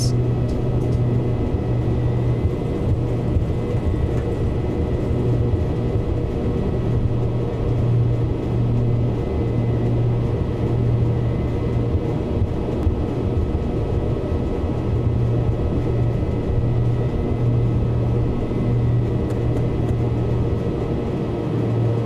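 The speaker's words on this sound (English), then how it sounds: "look how that aircraft wants to accelerate" An aircraft in Microsoft Flight Simulator 2024 accelerates along the runway on a night takeoff roll, making a loud, continuous engine drone and rumble that stays steady throughout, with no voices.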